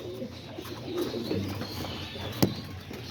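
Homing and roller pigeons coo softly and steadily in a loft, a low murmuring chorus with a brief sharp flutter or clap near the end.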